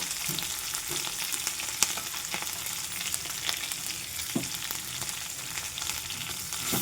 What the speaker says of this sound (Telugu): చూడండి, బిర్యానీ పౌడర్ వేస్తున్నాను